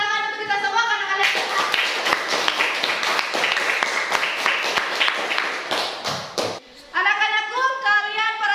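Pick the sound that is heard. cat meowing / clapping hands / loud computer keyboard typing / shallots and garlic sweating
clapping hands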